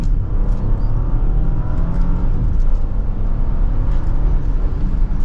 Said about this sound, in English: As we set off in the Audi, we are in dynamic in the sport mode setting.